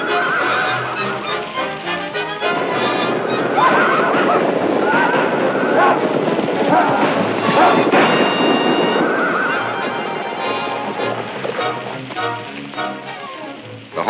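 Horses neigh and gallop as a radio-drama sound effect for a western herd scene, with a loud continuous rumble of hooves and repeated whinnies rising over it throughout.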